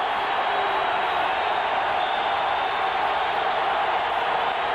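Steady broadband crowd roar fills a football stadium before a 49-yard field goal attempt in a 1994 Dolphins at Steelers NFL game, loud and continuous throughout with no distinct cheers or announcer voice.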